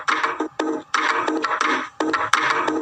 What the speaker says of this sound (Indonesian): Para gadis memainkan alu dan lesung hingga membuat harmoni.